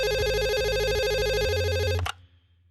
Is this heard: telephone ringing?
yes